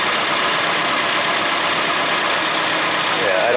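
Steady, smooth idle of a 2004 Nissan Frontier pickup's 2.4L engine after a water pump repair, heard close by as an even, unbroken running hum, with a faint voice briefly near the end.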